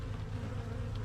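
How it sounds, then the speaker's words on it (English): Honey bees hum in a low, steady drone around a hive frame just lifted out, close and continuous, with no voices. "Now we get to see a lot of bees."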